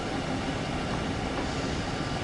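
Train braking in the video game Train Sim World on the Main Spessart Bahn, a steady rumbling wheel-and-rail roar with broadband hiss, continuous and fairly quiet with no talk.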